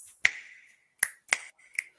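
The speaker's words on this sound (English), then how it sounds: "Love that he's getting haunted by finger snaps." Four sharp, close finger snaps ring out alone against silence, irregularly spaced across about two seconds, each a crisp click with a short fading tail.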